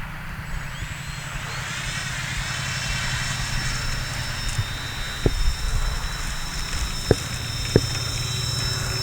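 A radio-controlled OV-10 Bronco model plane's engine drones steadily at takeoff, a continuous whine with a rising high tone, punctuated by a few sharp clicks.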